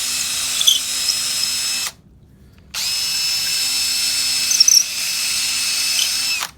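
A power drill spins a bit while reaming out a rapier handle, giving a steady, loud, high-pitched whine that cuts off for under a second and then resumes with a few faint scraping squeaks from the bit in the wood.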